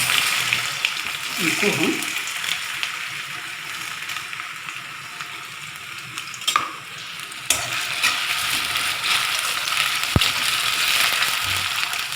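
Raw potato pieces frying in a pan, a continuous bright sizzle with occasional stirring clicks and scrapes, while someone talks briefly near the start.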